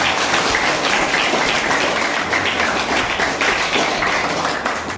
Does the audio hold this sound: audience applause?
yes